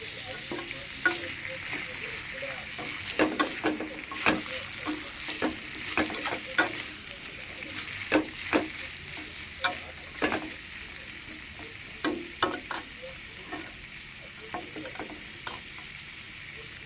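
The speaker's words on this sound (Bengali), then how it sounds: "আলু ভাজাগুলোকে ভালোভাবে ভেজে নেব।" Potatoes frying with turmeric and salt in a pan, a steady bright sizzle broken by frequent sharp scrapes and knocks of stirring, close and alone with no talk.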